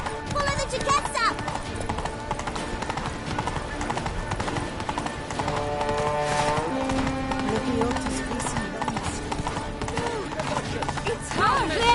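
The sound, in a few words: horse galloping in The Witcher 3: Blood and Wine video game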